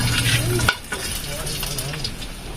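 Dried fish frying in a pan, a loud crackling sizzle that cuts off sharply after a moment and then continues as a softer, steady hiss with faint stirring.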